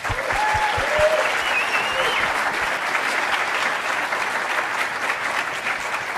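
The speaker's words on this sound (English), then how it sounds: "So give him a good applause." Sustained audience applause at a movement's global chapters event, a dense, steady wash of many hands clapping with a few close claps and faint voices mixed in.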